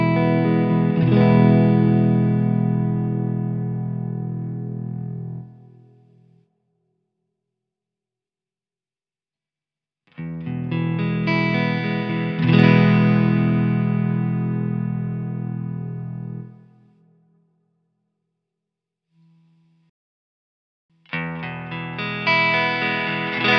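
Electric guitar through a Flattley The Ace pedal with treble boosted, three loud distorted strummed phrases separated by silent gaps, each ringing several seconds before decaying, with no voices.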